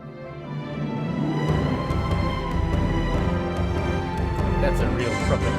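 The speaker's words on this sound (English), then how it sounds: "That's a real proper epic orchestra sound." Epic orchestral playback from MuseScore 4's MuseSounds library plays continuously, dense and full with deep low brass and percussion hits, steady and fairly loud throughout.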